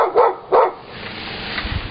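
A dog on a residential street next to a college campus gives two loud, close barks in quick succession, followed by quieter street ambience.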